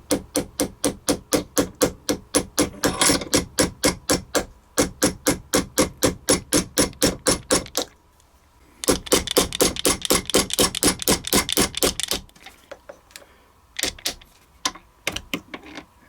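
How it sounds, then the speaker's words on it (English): A nylon punch taps a TruGlo tritium fiber optic sight into a pistol slide: rapid, evenly spaced sharp taps in bursts, a brief pause, then another fast run and a few scattered final taps, close and loud. "we're going to get close to the base of the sight and just start tapping"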